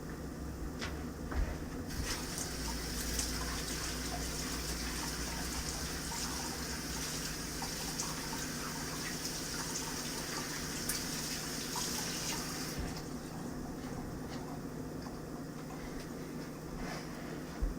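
Kitchen tap water running steadily over a banana being washed, a faint continuous hiss and splash that brightens briefly in the middle, with no talking.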